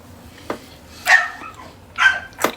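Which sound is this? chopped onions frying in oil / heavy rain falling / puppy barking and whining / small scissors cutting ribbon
puppy barking and whining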